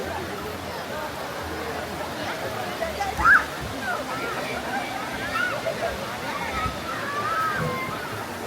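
River water in Hulu Langat flows and sloshes steadily at moderate volume, with people talking and a brief voice sound over the continuous rushing.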